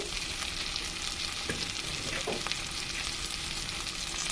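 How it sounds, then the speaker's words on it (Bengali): Hilsa fish heads fry in oil with chili and turmeric powder, making a constant, even sizzling hiss, quiet overall, with a couple of brief spoon scrapes against the pan and no talking. "কিছুক্ষণ ভালোভাবে ভেজে নেব।"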